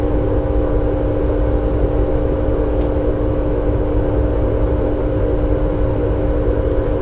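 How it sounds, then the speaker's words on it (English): Freight train hauled by a pair of Union Pacific locomotives at a CSX yard, a loud, steady diesel drone and low rumble holding without a break throughout. "we have 345 on his way towards us with double UP locomotives"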